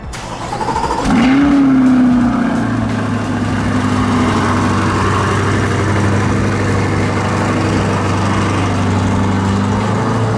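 Accelerate Yellow Chevrolet Corvette C8 3LT with Z51 package doing a cold start: a sharp crank and loud flare of revs that settles into a high, steady fast idle, close and loud with no talk.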